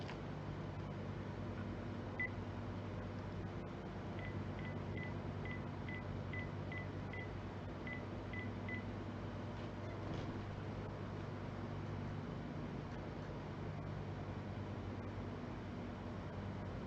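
Phone dialing tones while placing a call: a single beep followed by a quick run of about nine evenly spaced keypad tones, faint over a steady low hum, with no talking.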